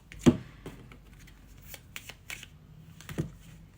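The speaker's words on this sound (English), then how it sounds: "let's shuffle one more time" A deck of cards being shuffled close up, a few quick riffles and taps with short pauses between.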